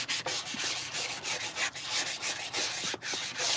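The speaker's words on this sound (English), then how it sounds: "It's a new handheld sander." A handheld sander works steadily against a surface, giving a continuous close rasping rub with brief rhythmic dips as the strokes change, and nobody talks.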